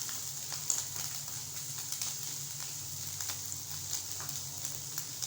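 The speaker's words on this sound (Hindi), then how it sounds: "हम ऑयल में इसे 2 मिनट फ्राई करेंगे।" Steady close sizzling of small boiled chicken pieces frying in oil in a pan, a continuous hiss with faint crackles and occasional light spatters, no talking.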